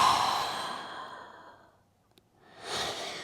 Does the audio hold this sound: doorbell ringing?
no